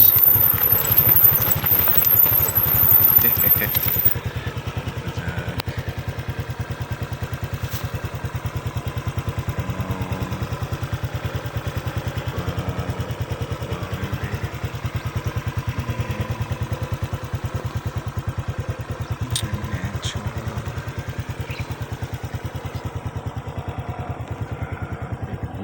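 A motorcycle engine runs steadily at a farm, a continuous low mechanical drone that stays even and moderately loud throughout, with no talk.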